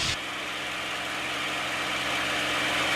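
A TF-51 Mustang's piston engine running steadily after the throttle is pulled back to reduced manifold pressure, a continuous broadband drone with low rumbling harmonics, loud and close, with no talk.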